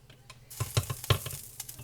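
Food cooks on a stove's back burner, giving a soft sizzle that runs under several close clinks and scrapes of stirring. The sounds are short and irregular and come with no speech.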